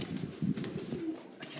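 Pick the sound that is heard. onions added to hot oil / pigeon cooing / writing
pigeon cooing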